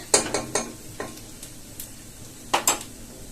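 Onions sauté in a pan for chicken chukka, with soft sizzling under a handful of sharp, close scraping stirs that come in quick bursts separated by quieter pauses.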